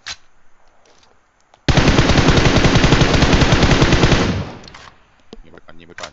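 A loud, close burst of automatic weapon fire in PUBG Mobile, a continuous rapid stream lasting a few seconds, with quieter game sounds and player chatter before and after.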